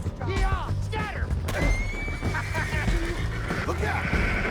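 A horse in the video game Red Dead Redemption 2 lets out several sharp, rising whinnies and neighs amid hoof clatter, shouting voices and chaotic action, loud and close.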